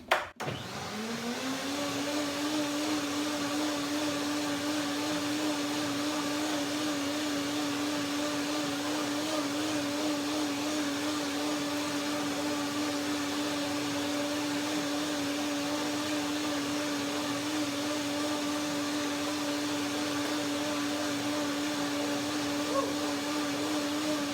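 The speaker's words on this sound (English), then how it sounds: "now I blend one more time to get the right texture" A blender whirs at a steady, high-pitched drone while blending mango soup, starting abruptly and running continuously without pause, close by and fairly loud.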